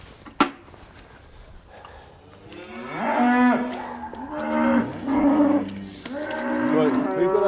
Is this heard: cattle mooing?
yes